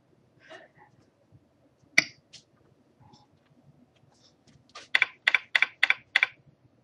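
Typing on a computer keyboard while entering a username: scattered soft key taps, then a quick, loud run of five or six evenly spaced keystrokes close by.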